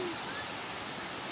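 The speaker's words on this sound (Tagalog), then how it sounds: "Nandito na tayo sa Tarangan Falls." Tarangan Falls pours as a dense, steady rush of falling water, close and continuous with no breaks.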